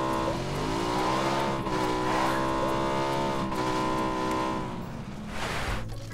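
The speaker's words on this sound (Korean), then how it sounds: "내 오토바이 소리 듣고 나오고 있을까?" Motorcycle engine in the video game PUBG, a steady droning rev that rises and holds in pitch and stays loud and close throughout, with light speech-like sound faintly present underneath.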